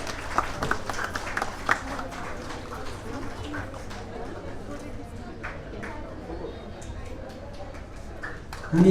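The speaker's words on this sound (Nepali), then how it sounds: "मेरो विचारमा हामी सबैजना ताली बजाउनुपर्छ होला" Wedding guests applauding at a Nepali wedding ceremony, a scattered, moderately distant patter of claps that thins out over several seconds, with voices talking underneath.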